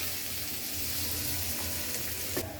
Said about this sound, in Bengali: তার মধ্যে পেস্টটা একটু ভেজে দিব